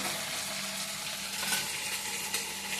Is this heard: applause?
no